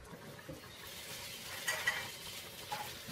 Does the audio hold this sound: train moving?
no